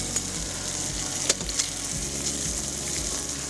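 Meat sizzling and frying in a hot pan, being lightly browned before going into a clay pot with beans for cassoulet; a steady close hiss with occasional soft pops and stirring knocks, no talking.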